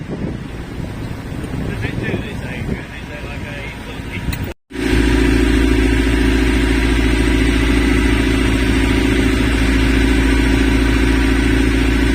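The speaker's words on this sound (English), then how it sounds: "Pity, I had to put the engine on." A sailboat's auxiliary engine drones at a steady, loud pitch in rough, rolling weather. It follows a few seconds of wind buffeting the microphone and then runs on alone without a break.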